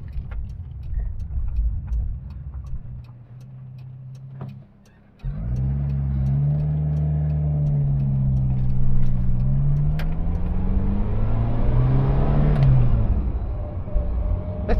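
A Leyland Marina six-cylinder engine revs up with a rising, throaty roar after a brief lull, growing louder and holding strong, heard close from inside or near the car.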